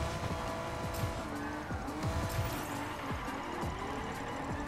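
Car drifting in Rocket League, with repeated sharp tire squeals sliding in pitch over a steady engine roar and game noise, loud and continuous.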